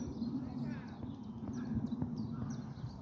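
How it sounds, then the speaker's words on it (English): A Eurasian coot calls near a lake, giving short, faint, sharp notes scattered over a few seconds amid outdoor background noise and a low steady hum. "that one there you can hear, that's your coot"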